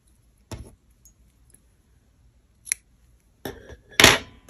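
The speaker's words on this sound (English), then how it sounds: "I'm going to cut this yarn" Scissors snipping through yarn, a few sharp, close clicks spaced apart in an otherwise quiet room, with the last cuts louder and quicker.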